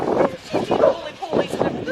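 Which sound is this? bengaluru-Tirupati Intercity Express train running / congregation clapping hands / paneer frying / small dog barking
small dog barking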